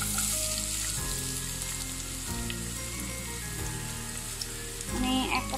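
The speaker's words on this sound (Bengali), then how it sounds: "তেলটা আমার গরম হয়ে গেছে, এর মধ্যে আমি 1 কাপ পেঁয়াজ কুচি দিয়ে দিচ্ছি।" Chopped onion hits hot oil and fries with a loud, even crackling sizzle, broken by a few soft clunks and stirring touches, with no talking.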